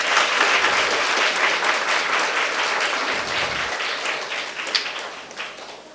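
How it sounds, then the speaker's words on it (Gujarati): A crowd at a school and home for the blind bursts into loud, close, sustained applause that fades slightly near the end, with no speech over it. "એટલે તમારા પોતાના માટે એકવાર તાળી વગાડ દો."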